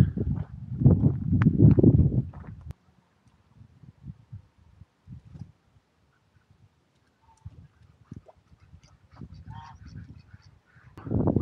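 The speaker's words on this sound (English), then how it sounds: "There's white geese and then there's ducks down there." White geese honk by a small reservoir in a few loud bursts, with quieter scattered calls and faint outdoor noise between them and a cluster of honks near the end.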